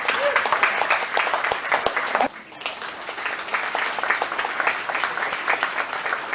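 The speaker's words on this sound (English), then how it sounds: "how about another round of applause, or a big one for Billy here." A rodeo audience gives a round of applause, lively clapping that briefly dips midway and then builds again into a dense, sustained ovation at close range.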